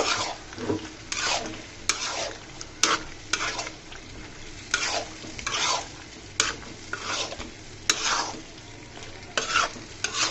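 Cut eggplant pieces being stirred in a frying pan while cooking for a fish-oil curry, with repeated scraping sweeps of the spatula over a steady oily sizzle, close and fairly loud with no talk.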